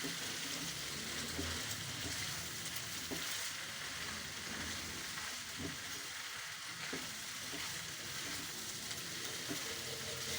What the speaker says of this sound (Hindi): इनको हम अच्छे तरीके से फ्राई करेंगे।